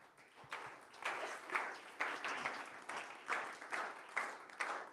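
A church congregation clapping for Jesus during a bilingual sermon, with rhythmic bursts of applause that rise and fall in a fairly regular beat, moderately distant and without voices.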